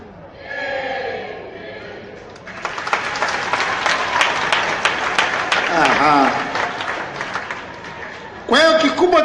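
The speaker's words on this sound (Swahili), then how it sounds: "Makofi kidogo na goma kidogo." Crowd applause bursts in after a spoken line and keeps going for several seconds, dense clapping with some drumming mixed in, then a voice returns near the end.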